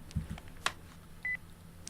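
A cell phone number is keyed in during the visual novel Sweet Pool, with a few faint clicks, a sharp tap and one clear steady keypad tone over quiet background.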